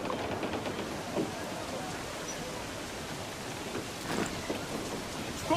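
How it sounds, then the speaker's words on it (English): A storm in the Assassin's Creed 4 Black Flag video game: steady rain hisses throughout while low thunder rumbles underneath, with a few louder gusts and surges toward the end, and no speech. "Storm brewing there, sir."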